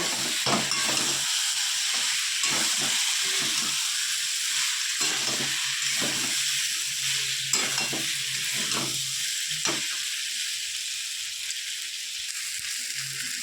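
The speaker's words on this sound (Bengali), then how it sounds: "আলু আর ফুলকপি মশলা দিয়ে ভালো করে কষানো হয়ে গেছে" Potatoes and cauliflower sauté in spices in a pan, making a continuous loud sizzle and hiss broken by repeated scraping stirs of a spatula, with no talking.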